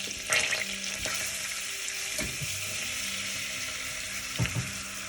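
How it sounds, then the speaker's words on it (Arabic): Flour is stirred into melted butter in a pan, giving a soft, constant sizzle punctuated by light scraping clicks of the utensil. "دابا انا غادي نخلط هاد الطحين مزيان مع الزبده"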